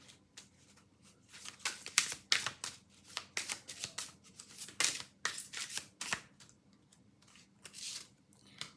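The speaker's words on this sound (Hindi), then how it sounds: "मैं फिर से शफल करती हूँ" Tarot cards being shuffled by hand, a quick run of crisp riffling bursts in uneven rhythm, close and fairly quiet with no talk over it.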